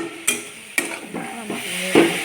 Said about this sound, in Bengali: তো দেখো সব কিছু পরিমাণে দিয়ে নাড়া দিয়ে নাড়াচাড়া করে